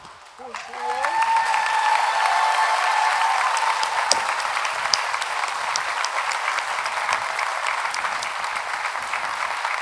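Audience at a high school senior awards ceremony clapping after a speaker's voice, swelling quickly into steady, moderately loud applause that holds for several seconds with scattered louder claps.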